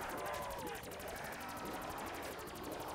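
Rapid automatic gunfire from Black Ops 3 custom Zombies mode, a dense continuous burst of repeated shots with game effects underneath, steady and loud throughout.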